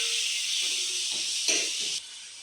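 Tomatoes and curry leaves sauté in a pan with a steady, close sizzling hiss, a few faint soft stirring scrapes underneath, and the hiss drops slightly near the end.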